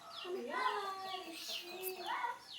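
A baby bird calls with repeated high, rising chirps while being caught by hand, the calls close and fairly loud amid overlapping voices.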